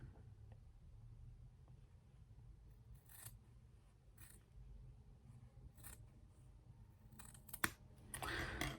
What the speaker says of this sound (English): let me cut a piece of cotton.